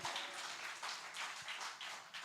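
A church congregation at a Spanish-language service gives a soft burst of applause, a quiet, even patter of many hands that sounds fairly distant and carries no voices.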